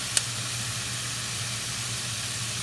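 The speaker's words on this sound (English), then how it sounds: "I start putting in right into this hot pan the heirloom tomatoes" Heirloom tomatoes hit a hot pan of cooked-down onions, giving a steady, close sizzling hiss that holds evenly throughout, with a small click near the start.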